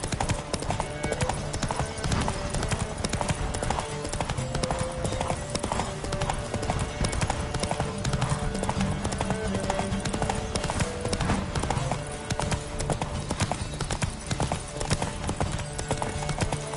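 Horse hooves pound in a fast galloping race through Witcher 3, steady clip-clop rhythm running continuously and loud for the whole stretch, with a rider's shouts breaking in now and then.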